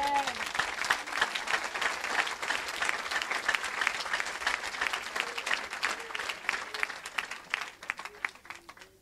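A church congregation applauds, a dense burst of many hands clapping that holds strong for several seconds and then gradually thins and fades, with faint voices mixed in.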